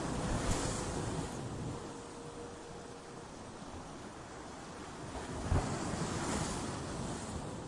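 Large sea waves crash and surge in a steady, broad wash of surf with gusting wind, rising and falling in swells, including a sharp burst of breaking water near the end, no voices.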